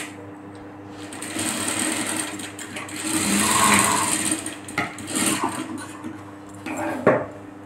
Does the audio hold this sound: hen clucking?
no